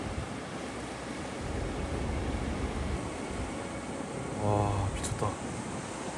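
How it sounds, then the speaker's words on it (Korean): High ocean waves crashing on the Japanese coast, a constant loud roar of surf with wind noise, as a voice exclaims over it. "와, 파도가 높긴 높다."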